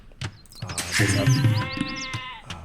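Sheep bleating in the video game Age of Empires: a long, wavering, nasal bleat rises over a few short clicks and taps, fairly loud and close, with game effects around it.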